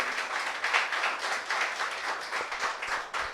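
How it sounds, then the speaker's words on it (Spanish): Congregation clapping during a Spanish-language church service, a steady dense patter of many hands filling the room for the whole stretch with a slight dip near the end. "Dale un aplauso al Señor, hermano, en esta mañana."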